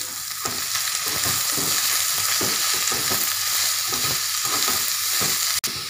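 Onions and curry leaves frying in oil in a pan for a balloon vine dosa, a loud continuous sizzle with rhythmic stirring scrapes throughout and one sharp knock near the end, no speech.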